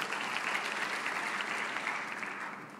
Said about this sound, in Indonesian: Mau tepuk tangan buat Yesus?